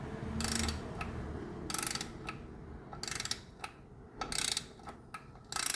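Ratcheting wrench tightening engine bolts, several short bursts of close, rapid clicking separated by brief pauses, over a low background hum.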